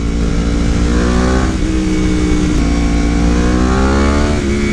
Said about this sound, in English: this Graves exhaust is a lot more reasonable. It has the same tone and everything,